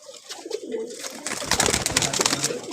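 A pigeon coos in soft, low, rolling calls, close and fairly quiet, followed by brief rustling and fluttering noises.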